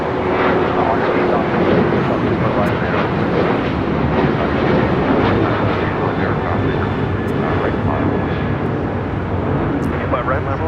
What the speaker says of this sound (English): 2608 taking off to Chicago O'Hare on a 737-800.